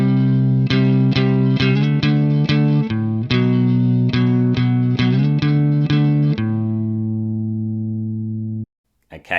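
Electric guitar playing a riff with distorted, effected power chords: a run of loud, close strummed chord hits in a steady rhythm, ending on a long ringing chord that is cut off.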